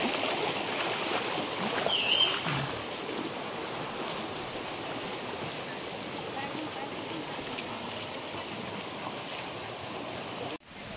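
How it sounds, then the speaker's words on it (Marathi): Steady broadband rush of a flowing stream near the Jatashankar Mahadev waterfall in Ambabarwa sanctuary, Buldhana, Maharashtra, continuous and even throughout, with a brief dropout near the end. "सुंदरपणे वाहणारे झरे"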